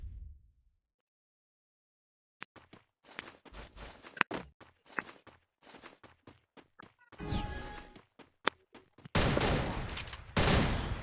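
Gunfire in a video game where a headshot lands a kill: after a quiet stretch, a rapid string of sharp shots and bursts crackles, ending in a dense, sustained volley.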